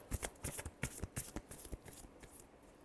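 Tarot cards being shuffled by hand, a quick series of crisp riffling slaps close up, fading slightly toward the end.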